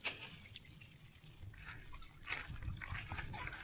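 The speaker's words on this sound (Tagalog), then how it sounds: "Ang lakas ng pressure ng tubig ano." Water from an irrigation hose feeding a rice paddy gushes and splashes under strong pressure, a faint steady rushing with intermittent louder spurts and drips, heard alone without talk.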